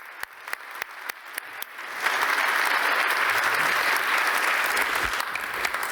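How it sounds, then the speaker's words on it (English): Scattered claps build into full, sustained applause from an audience at a ministerial science-to-policy conference, the dense clapping steady and loud after the first couple of seconds. "you deserve an applause for what you have done"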